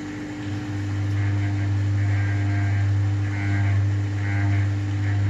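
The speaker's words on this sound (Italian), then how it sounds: "ronzio che si sente in sottofondo, è dovuto semplicemente ad una leggera vibrazione della lamiera di un fianco della macchina" A steady low mechanical hum with a buzzing vibration, loud and continuous, slowly swelling and fading as an Atlantic LF 454 TX washing machine runs its rinse and spin cycles, caused by slight vibration of a sheet-metal side panel.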